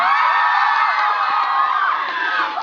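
Mostly female fans at a film stage greeting in Daegu scream and cheer in a loud, sustained high-pitched roar, with overlapping shrieks and whoops that hold steady throughout.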